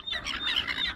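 A goose squawks in Western Springs park, Auckland, one harsh, nasal call held steadily for about a second, loud and close.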